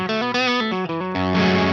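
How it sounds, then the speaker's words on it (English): Electric guitar through a Big Muff fuzz pedal, playing a short sequence of thick, saturated notes in quick succession before ringing into a sustained, buzzing chord. "We start with a Big Muff."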